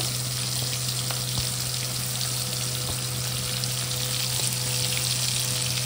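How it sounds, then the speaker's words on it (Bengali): Onions fry in oil left over from potatoes for a soya bean curry, giving a steady dense sizzle with faint stirring clicks, close and continuous, with no voices. "পেঁয়াজগুলো একটু ভাজা করবো।"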